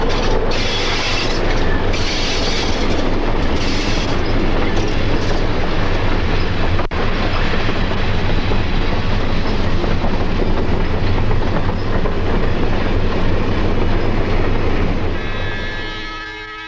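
South Shore freight train number 801 with caboose heading east, rolling past close by in a loud continuous rumble of wheels and clattering cars, with brief high squeals early on and the sound easing at the end.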